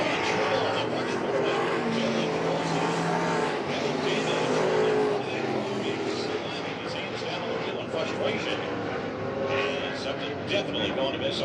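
Semi-late race cars roar around Hagerstown Speedway during an afternoon main event, a dense, loud engine drone with passing cars rising and fading, heard under continuous announcer talk.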